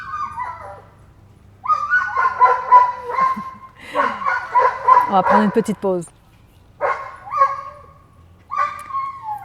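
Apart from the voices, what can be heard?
neighbour's dog barking excitedly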